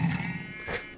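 Sheep bleating in the video game Minecraft, a single short bleat heard up close and fairly faint.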